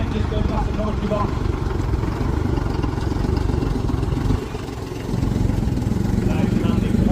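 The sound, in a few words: Leyland Comet lorry driving past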